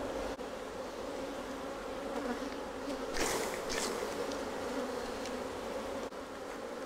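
A dense, steady hum of many honey bees buzzing close by in an open hive, with a brief scrape of a frame moving partway through.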